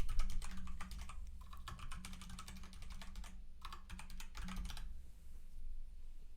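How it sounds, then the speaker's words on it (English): Fast bursts of typing on a computer keyboard during a coding session, clustered clacky keystrokes with short pauses, close and fairly quiet over a low steady room hum, no talk. "I need my keyboard."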